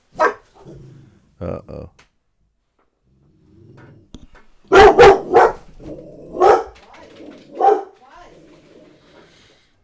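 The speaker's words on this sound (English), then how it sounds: "The dogs are going to visit the neighbor who's standing at the front gate with his dog." Several dogs head to the front gate toward a neighbor standing there with his dog, giving a few sharp barks and yips in bursts separated by quiet gaps, with brief speech in between.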